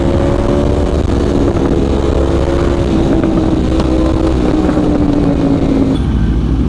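An Aprilia RSV4 superbike engine drones steadily and loudly on a highway in India, its hum slowly shifting in pitch under constant wind roar.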